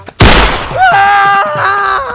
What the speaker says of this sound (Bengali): পাঠান ভাই চিল্লাইতেছে, মানে আবার গুলি করতে হইব।